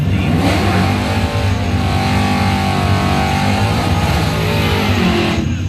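A dragster's engine screams loud and close during drag-strip time trials, a continuous high-revving roar with rising and falling pitch lasting the whole stretch.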